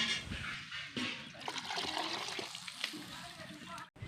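Dissolved tamarind water splashes and sloshes into a pot of dry fish curry in a steady close pour, with a voice speaking over it.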